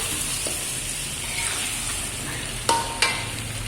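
Chunks of potato sautéing with chicken in plenty of oil in a pot, a steady close sizzle with a few sharp scraping clinks of a spoon against the pot.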